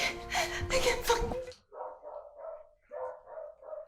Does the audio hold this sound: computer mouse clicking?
no